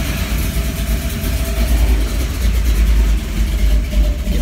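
Blueprint 383 stroker engine idling through its exhaust, a close, deep, steady rumble with a lumpy low pulse and no revving.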